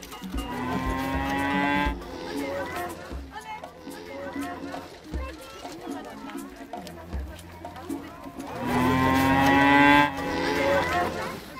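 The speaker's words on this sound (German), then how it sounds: "Das schottische Hochlandrind hat große Hörner und ein zotteliges Fell." Scottish Highland cattle, large-horned and shaggy-coated, lowing in a wildlife park: two long, loud, deep moos bracket the clip, with quieter outdoor sounds between them.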